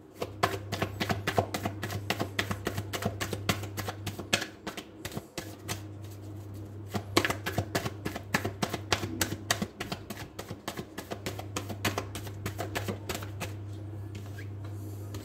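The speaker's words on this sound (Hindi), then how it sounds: "तो कार्ड्स को शफल करना शुरू करते हैं" Tarot cards are shuffled by hand in quick, rapid riffling bursts, up close and continuous, with a steady low hum underneath and a brief pause partway through.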